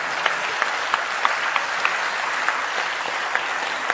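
An audience at a Save Soil gathering in Turkey claps steadily, a dense, even wash of applause with a few sharper individual claps standing out, moderately close and without talk.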